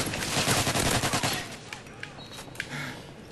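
Gunfire in an online shooter game rattles in rapid bursts for the first second and a half, then thins to a few scattered shots and faint clicks at a lower level, with no speech.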